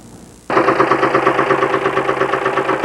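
A faulty engine in a 1995 Grand Am sputters into life after a moment of quiet, then runs with a rough, pulsing, knocking idle up close.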